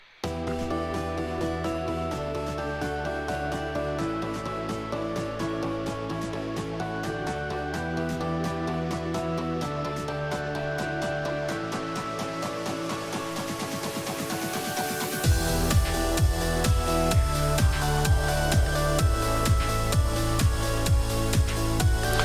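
Full-band music plays continuously from an unmastered track with the mastering chain disabled, a steady beat with layered instruments that thickens into a louder, denser section toward the end; no voices.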